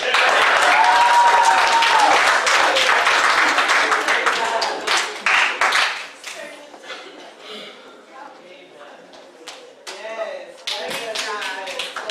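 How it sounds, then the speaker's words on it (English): A church youth service crowd applauds loudly for several seconds, then the clapping thins to scattered claps while people talk underneath. "give yourselves a round of applause for being here"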